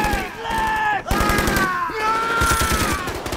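Rapid bursts of gunfire crackle through the Tropic Thunder movie ambush scene, dense repeated shots mixed with film score tones and sliding voice-like sounds.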